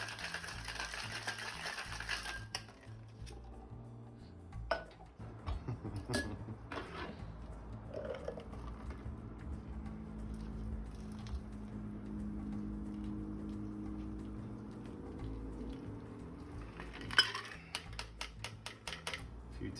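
Cocktail shaker being shaken for a Rodriguez Sour, a rapid rattling of ice in bursts separated by quieter pauses, moderately close and faint overall.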